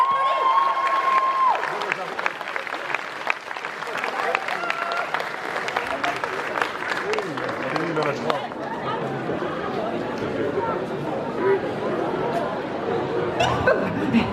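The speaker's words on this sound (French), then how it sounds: "On les applaudit." Applause from the audience at a cosplay contest at a Japanese culture convention, with crowd chatter and scattered laughter around it. A tone sounds at the start, and a voice comes through the applause.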